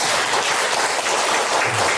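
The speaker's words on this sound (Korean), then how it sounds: "박수 한번 보내" Loud, dense applause from a large audience at a religious gathering, a continuous roar of many hands clapping at close range with no pauses.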